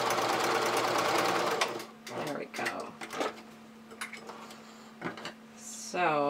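A sewing machine runs in a fast steady burst stitching fabric for a pug add-on to a Miyu pattern, then stops while a voice talks over short intermittent clicks and handling.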